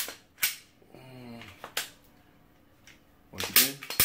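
Sharp metallic clicks from a Glock 22 slide being pushed back onto its frame over a 9mm conversion barrel and guide rod spring assembly, three crisp snaps spaced a second or more apart, close up, with brief voices in between.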